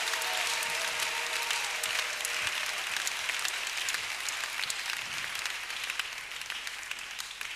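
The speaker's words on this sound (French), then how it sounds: "Applaudissez le Seigneur Jésus." Church congregation applause, sustained and fairly distant. The dense clapping rises at first, then slowly thins and fades, and a few voices are faintly audible.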